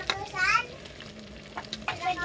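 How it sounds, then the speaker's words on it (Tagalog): A pot of unripe jackfruit vegetable dish bubbles and sizzles on the stove, with brief stirring scrapes and a few clinks, fairly quiet and close. "So kumukulo na."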